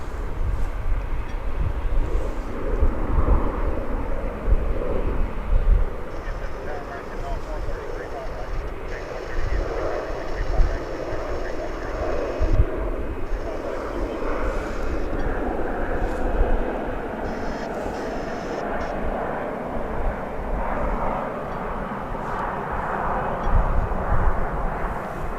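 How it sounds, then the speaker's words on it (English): An American Airlines airliner taking off at DFW Airport, heard as a sustained, fairly loud engine roar with low rumble and wind buffeting that runs through the whole stretch, while people talk over it. "We've got an American Airlines Flight 1947 to San Diego now taking off"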